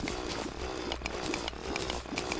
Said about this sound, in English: So let's have to mine it the old-fashioned way. With a drill.